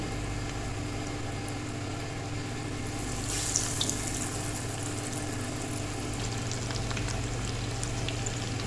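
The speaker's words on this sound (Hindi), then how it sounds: "शैलो फ्राई करेंगे, ठीक है।" Pizza pockets shallow-fry in moderately hot oil in a pan, a steady close, even sizzle over a constant low hum, swelling slightly partway through as more pieces go in.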